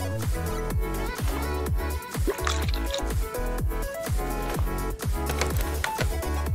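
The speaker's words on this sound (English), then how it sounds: "Which fluids? Uh, windshield washer fluid and coolant. Let's go ahead and drain that." In a car repair simulator game, windshield washer fluid and coolant drain away as a rapid run of close, bubbling drips and gurgles repeating steadily over a low drone, with no talking.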